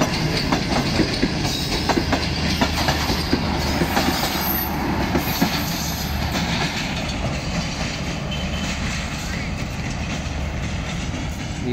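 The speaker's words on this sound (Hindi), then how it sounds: "ये ज़करिया एक्सप्रेस गई" The Zakaria Express rolls steadily past Khanpur railway station, a loud sustained rumble of wagons with rhythmic wheel clatter and some squealing, heard close by with voices talking faintly underneath.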